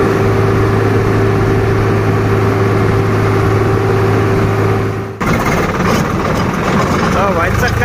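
Farmtrac 45 or Swaraj 744 XT tractor engine hauling a fully overloaded trolley, a steady low droning rumble with a sharp jolt partway through, loud and continuous under shouting voices.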